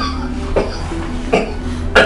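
Three harsh coughs spaced about a second apart, close and loud, over a low steady background hum.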